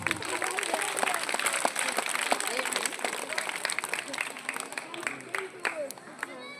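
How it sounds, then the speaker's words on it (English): Audience applause after a karate demonstration by schoolchildren, a dense, lively burst of clapping with crowd murmur and chatter running through it, fairly loud and close. "In that way, you have to give"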